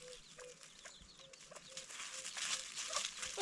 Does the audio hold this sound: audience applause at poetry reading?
no